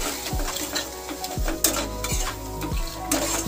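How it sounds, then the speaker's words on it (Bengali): Spice paste with a splash of water stirred and fried for a fish curry, a steady sizzle broken by several sharp scrapes of a utensil against the pan, close and fairly loud, with no talking. "এরপর সামান্য পরিমাণে জল দিয়ে মশলা ভালো করে কষিয়ে নিতে হবে"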